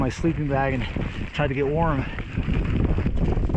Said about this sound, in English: See if I can get out of the wind and get into my bivy sack,